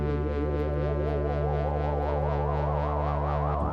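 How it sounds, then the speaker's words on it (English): Sustained low synth note from a Prophet 6 synthesizer, a steady droning layer with slowly wavering, throbbing upper harmonics, held evenly and loud throughout with no talk. "on this bottom note another sound layer that I recorded with my Prophet 6"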